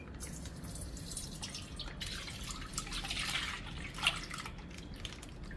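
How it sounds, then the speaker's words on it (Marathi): Rinse water splashes and trickles as it is poured out of a cooking pot, a soft uneven gush with a few drips, fairly quiet. "भांड्यामध्ये पाणी टाकायचं आणि ते ओतून घ्यायचं"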